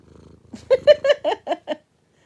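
A cat purrs close up in a short run of rhythmic pulses, about seven evenly spaced throbs. Each pulse is loud and buzzy, and the sound stops abruptly into silence.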